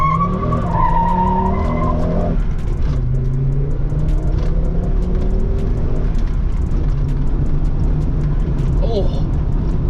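Volvo 850 T5-R pulling away hard with traction control off, tires squealing briefly over a loud, steady engine roar and road rumble, with a voice talking over it.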